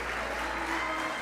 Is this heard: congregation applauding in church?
yes